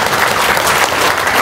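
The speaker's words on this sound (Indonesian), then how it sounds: "Tepuk tangan dong." Audience clapping in a steady, loud wash of applause that holds evenly from start to finish with no talk over it.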